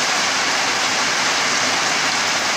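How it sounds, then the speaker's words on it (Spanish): A heavy downpour pours down as a dense, loud, unbroken hiss of rain, steady from start to finish with no voices. "el gran aguacero que está cayendo"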